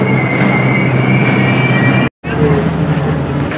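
A Delhi metro train rolls through the station, a loud continuous rumble of wheels on rail with a faint high squeal, briefly cut out by a sharp break before the noise resumes.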